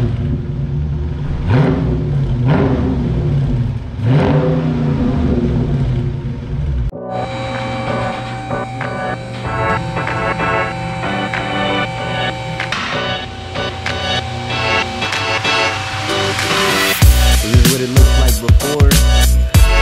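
A 2020 Dodge Charger Scat Pack with its mufflers deleted revs loudly up close in a muffler shop. The engine snarls up and down in repeated throttle blips, then holds a raw, droning roar before a deep, heavier rev at the end.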